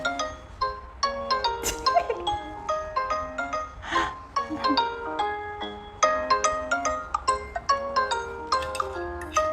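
Phone ringtone from an incoming call, a bright, repeating electronic melody of quick plinking notes that plays clearly and continuously for about ten seconds, with a faint background sound briefly behind it.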